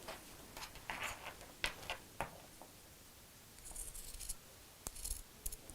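Fabric pieces for a small sewn box bag being cut out with scissors: a handful of short, crisp snips and scratchy blade strokes, close and quiet, with pauses between cuts.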